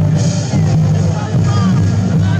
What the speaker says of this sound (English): Now listen to that rally cry as a crowd of thousands is on their feet